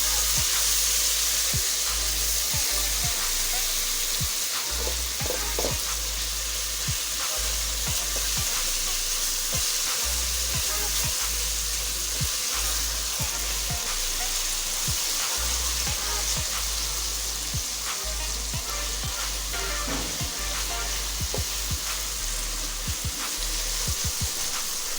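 Red chili powder and turmeric fry in oil for a ridge gourd curry, giving a steady, loud sizzling hiss that runs the whole time, with occasional scraping stirs and no voices.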